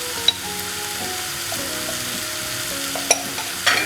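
Spice powders and garam masala sautéing in a pan for spicy chicken roast, a soft steady sizzle with faint tonal hum and a few sharp clicks of a spoon near the end.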